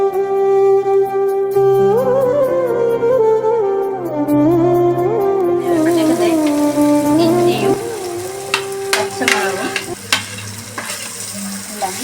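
Sliced onions sauté with a pinch of salt in a pan, a steady close sizzle with stirring scrapes, playing under a melodic music track.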